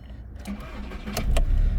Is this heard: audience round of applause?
no